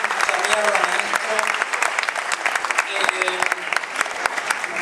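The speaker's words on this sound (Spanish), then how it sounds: "pido un fuerte aplauso para él" A large audience claps loudly and continuously at a dance showcase of advanced teenage students, dense applause with a few audible cheers and voices mixed into the crowd.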